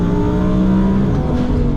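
A 1000 hp twin-turbo Audi R8 V10 roars loud and close as it pulls hard in first gear, the engine note climbing steadily through a brief full-throttle burst.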